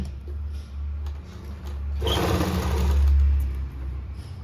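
A sewing machine stitches lace onto a kurti panel, running in a short loud burst of about one and a half seconds over a low motor hum, close and without talk.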